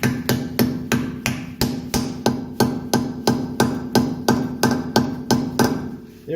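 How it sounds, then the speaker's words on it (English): Metal hammer taps on a wheel grease cap of a 1984 Mercedes 300CD in a steady rhythm, about fifteen sharp, ringing strikes at even intervals, close up with no talking. "Now you just tap it on with a hammer as you spin."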